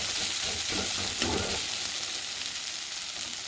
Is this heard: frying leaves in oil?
yes